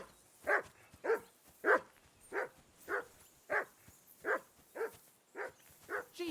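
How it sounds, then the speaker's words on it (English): A dog barks steadily in Kingdom Come: Deliverance 2, about a dozen evenly spaced barks roughly every half second, moderately close but fairly quiet, with no talk over them. "Jesus, Henry, that barking's driving me nuts."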